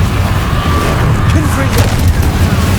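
A Confringo blasting spell bursts in Hogwarts Legacy, a dense, loud low rumble of explosion that fills the whole stretch with steady booming energy beneath brief fizzing crackles.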